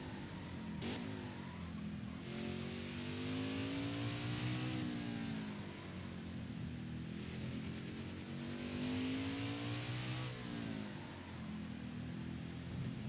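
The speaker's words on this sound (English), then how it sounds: "Enjoy the sounds of NASCAR." NASCAR Heat 5 race cars roar through turns in a modded Xfinity Series race, engines droning and revving in rising, falling waves, steady and dense without pause, with no voices.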